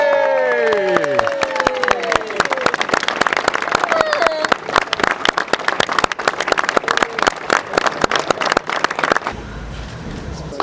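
Loud, dense clapping from a crowd at Oulton Park race circuit with scattered cheers and whoops, sustained for several seconds before tapering off.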